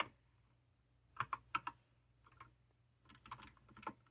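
Short bursts of keystrokes on a computer keyboard entering a Wi-Fi password while setting up a Raspberry Pi Zero 2 W, close and fairly quiet, with pauses between clusters of taps.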